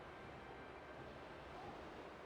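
A waterfall in the Pokemon Scarlet video game gives a steady, broadband rushing roar of water, constant and even throughout with no other sounds.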